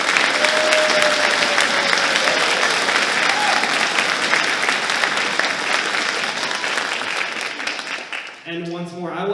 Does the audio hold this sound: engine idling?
no